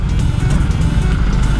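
Honda Vario 150 scooter idling after an engine overhaul, a low, even engine hum that stays steady and close with no misses or knocks.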